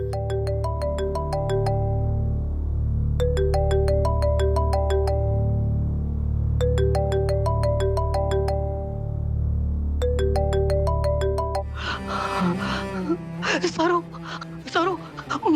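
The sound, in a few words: phone ringtone ringing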